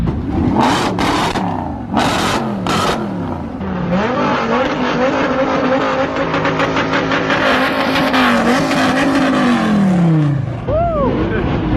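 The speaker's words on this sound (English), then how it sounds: "We got the Bugattis heading out" Bugatti sports cars pull out at a large gathering of supercars, engines revving loudly and passing close by with rising and falling pitch, accompanied by crowd voices and a brief tire chirp near the end.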